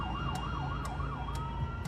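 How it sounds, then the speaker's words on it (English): A West Midlands ambulance siren wails in a steady up-and-down sweep as the crew arrives at a road accident scene, fairly faint with traffic rumble beneath. "As West Midlands ambulance crew arrive on scene, Mike updates the critical care trauma desk"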